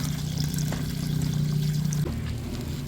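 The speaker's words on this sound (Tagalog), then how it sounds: "At lalagyan na po natin ng tubig" Water is poured into a cooking pan while making pancit habhab, a steady close pouring stream that runs for about two seconds and then tapers off.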